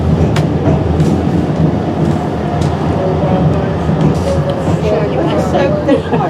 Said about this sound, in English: They are amazingly powerful little locomotives.